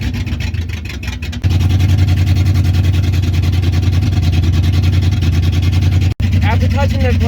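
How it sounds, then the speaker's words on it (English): A 1968 Ford 302 V8 with a carburetor being tuned idles high and steady after a brief blip of the throttle, a loud continuous engine drone close by, with a short pause near the end. "After touching the gas a little bit, now it's idling high."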